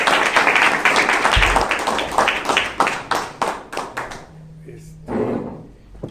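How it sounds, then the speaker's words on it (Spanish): Loud audience applause fills the room for a few seconds at a Spanish-language political and citizenship talk, thinning into scattered claps before a voice speaks. "Un aplauso para nuestro ponente."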